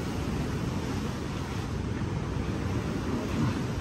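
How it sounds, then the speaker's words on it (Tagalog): Strong sea waves in windy bad weather at Avoca, a continuous loud rumbling wash of surf mixed with heavy wind buffeting the microphone, no voices. "Malakas yung alon."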